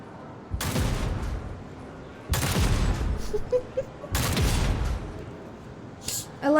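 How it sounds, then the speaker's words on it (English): Loud bursts of gunfire in Warhammer 40,000: Rogue Trader as a crowd is shot, three separate volleys spaced a couple of seconds apart, each with a booming onset and decaying rumble. "Why go to any effort when I can simply shoot everyone here?"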